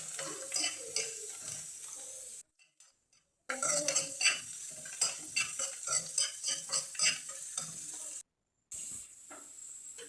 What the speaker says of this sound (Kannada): ಹಾಗೆ ಬೆಳ್ಳುಳ್ಳಿ ಮತ್ತು ಈರುಳ್ಳಿನ ಎರಡನ್ನೂ ಚೆನ್ನಾಗಿ ಬಾಡಿಸ್ಕೊತಾ ಇದ್ದೀನಿ